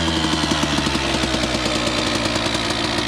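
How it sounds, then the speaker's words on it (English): A 30-year-old Suzuki RM 125 two-stroke dirt bike engine runs steadily close by, a rapid buzzing pulse with a fast regular beat at an even, fairly loud level and no talking over it. "I'll fire it up here. At least you can hear the thing run before we bring it in."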